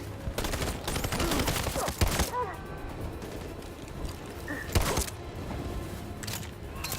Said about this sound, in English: I'm gonna use this pistol to shoot the tank to death.